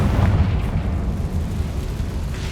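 A Confringo fire spell blasts in Hogwarts Legacy, a dense booming explosion that rumbles steadily through the whole moment, loud and close with no voices over it.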